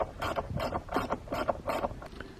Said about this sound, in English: Now I need a 10mm spanner to adjust this nut anti-clockwise to loosen the tension on both handbrake cables.